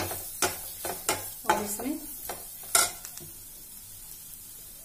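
Turmeric and garam masala are mixed in a frying pan for bhindi masala, several scraping spatula strokes over a soft sizzle that fades out after a few seconds, with a few brief spoken words.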